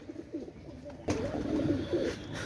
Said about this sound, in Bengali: আপনারা লক্ষ্য করেন এই জোড়া হচ্ছে আপনার বেনারস কবুতার